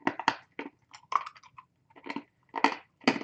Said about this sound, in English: I take great satisfaction in crunching hard candies.